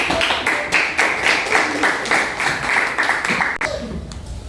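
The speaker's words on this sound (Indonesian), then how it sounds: "Kasih tepuk tangan." Students in a classroom clap for a classmate, a short burst of rhythmic group clapping with a few voices mixed in, ending abruptly.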